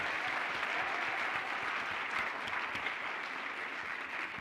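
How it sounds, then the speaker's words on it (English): A Burns Night supper audience claps in sustained, even applause that holds steady and fairly loud from start to finish, with no talking over it. "Let's give Richard another round of applause."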